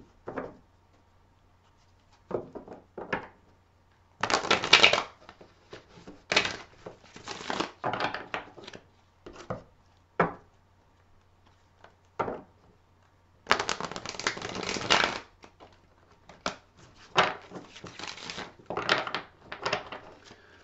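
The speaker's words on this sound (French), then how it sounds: "Toujours très dur à mélanger ces cartes." A deck of tarot cards is shuffled by hand close up, giving repeated dry riffling and sliding bursts, some long and some short, with brief pauses and soft taps between them.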